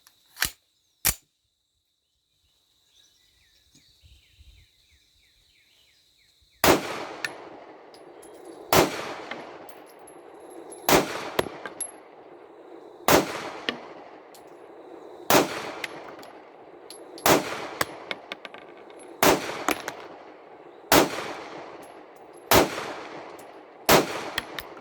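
Gunfire from a 9mm RIA GI 1911 pistol fed from a Wilson Combat magazine at an outdoor range: after a couple of early shots, a steady string of about ten sharp, loud reports follows at even intervals, each with a brief echoing tail.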